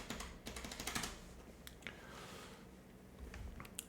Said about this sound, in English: Hold on, did I type this in right?